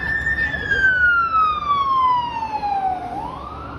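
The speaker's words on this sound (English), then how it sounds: "That was a fire truck." Fire truck siren passing on a city street in Toronto, one loud descending wail that sweeps down in pitch as it goes by, heard over traffic rumble.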